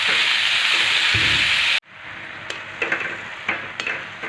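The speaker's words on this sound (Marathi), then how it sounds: "ती भाजी आता आपल्याला या तेलामध्ये आणि या फोडणीमध्ये मस्त अशी हलवर करून मिक्स करून घ्यायची आहे" Wild leafy vegetable being stirred into hot oil tempering gives a broad, steady sizzle that cuts off abruptly, then softer frying hiss returns with occasional clinks and scrapes of stirring.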